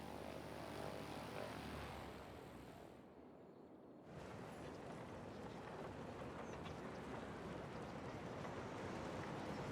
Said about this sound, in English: we've got ourselves a plane taking off